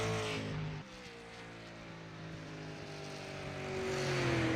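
Simulated race car in an Outlaw Super Series online sim race on a slick track, the engine note rising and falling as the throttle is worked, a steady droning whine that dips briefly then builds louder, no talk.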